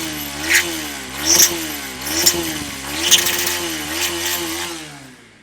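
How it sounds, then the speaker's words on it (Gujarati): A used Bajaj Pulsar NS 200 or Honda CBR 250 revs close up, its engine rising in several quick throttle blips over a steady idle. "હું રેસ કરીને તમને અવાજ સંભળાવીશ ગાડીનો."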